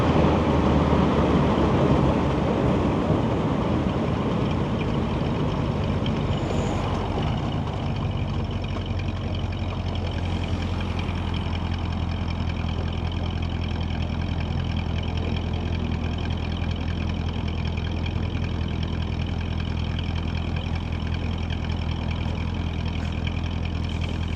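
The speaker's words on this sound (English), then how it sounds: "This engine is tuned up really nice" A 1955 Chevrolet Bel Air's 265 V8 engine idles steadily with a deep, even rumble and a constant low hum, running on without voices or changes in pace.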